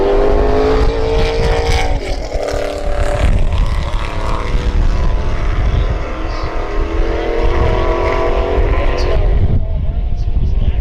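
Modified division race cars lap at the Whelen All-Star Shootout, a 40-lap event, with a loud, constant engine roar and shifting whine close by, while commentators talk over it throughout.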